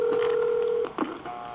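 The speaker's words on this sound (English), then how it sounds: "now a second dial tone has come onto the line" A second dial tone on a payphone coin line holds steady for under a second, then cuts off into faint clicks and line noise.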